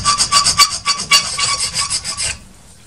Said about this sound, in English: I have just a standard, fairly fine-grained file.